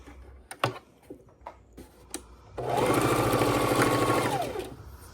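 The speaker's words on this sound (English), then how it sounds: "We're going to come over here to the sewing machine and start sewing our" A sewing machine stitches layered quilt fabric in a steady rapid whirring run of about two seconds, loud and close, preceded by a few soft clicks and handling taps.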